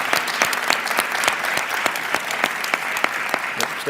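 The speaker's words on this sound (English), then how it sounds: "Let's give him a round of applause." An audience at a university board of regents meeting gives a round of applause, dense continuous clapping with sharp individual claps standing out, fairly close.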